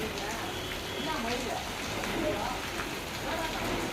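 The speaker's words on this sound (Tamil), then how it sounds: "அந்த மாதிரி மழை பெய்யுது பார்க்க முடியல." Heavy rain pours steadily and loudly, a dense unbroken hiss of drops with water rushing like a river, close and constant throughout.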